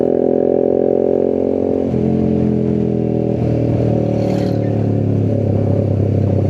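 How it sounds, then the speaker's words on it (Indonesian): A group of around seven or eight motorcycles, including a Yamaha X-Max scooter, riding together on a touring trip; steady loud engine drone with shifting revs and clattering, continuous and close throughout. "Ya di belakang juga banyak ya, sekitar 7-8 motor di belakang kita"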